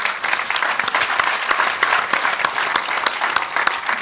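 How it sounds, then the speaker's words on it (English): A panel audience at a sports and media forum breaks into sustained applause, dense and even clapping from many hands that holds loud and steady throughout with no voices on top. "And you can applaud."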